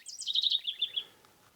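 A house wren sings in regrowing forest after a fire, one bright, rapid, bubbling phrase of chattering notes that slows and trails off, fairly close and clear against a quiet background.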